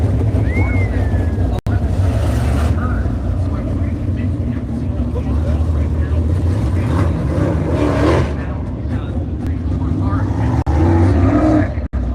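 Ontario traditional sprint cars racing in heats at Buxton Speedway, engines roaring and revving steadily as cars pass, with crowd and track noise and a commentator talking over it.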